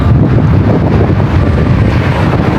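Loud, steady wind roars against the microphone during a road cycling climb near Shimen Reservoir, Taiwan, a dense low rumble that never lets up.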